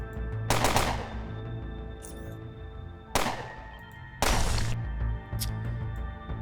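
Gunfire with standard bullets during a bullet-time attack on a handmaiden in the video game Underrail: three sharp, loud bursts, each with a short rattling tail, set over a steady droning game background.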